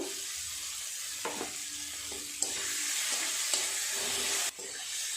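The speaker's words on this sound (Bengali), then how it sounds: "সমস্ত মশলা খুব ভালোভাবে কষিয়ে নিয়েছি, টমেটোটাও অনেকটা গলে গেছে" Spice masala cooked down with melted tomato in a pan, frying with a continuous close sizzle that gets louder partway through, marked by a few scraping stirs and no voices.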